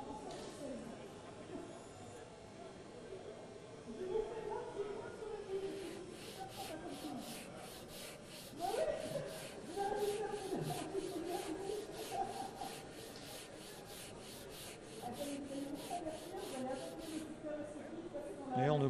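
Wood being sanded by hand with a dual-density block, rigid on one face and soft on the other, giving repeated back-and-forth rubbing strokes in a steady rhythm, close and moderately loud, with someone talking over it.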